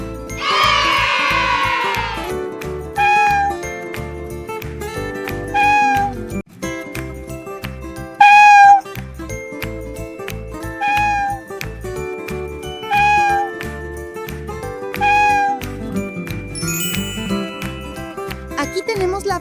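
Domestic cat meowing again and again, loud and near, with drawn-out cries at uneven intervals over a steady rhythmic music backing.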